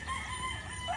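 Roosters crow at a gamecock farm raising fighting birds, a drawn-out cock-a-doodle-doo rising and falling over steady ambient noise, fairly close and clear with no voices.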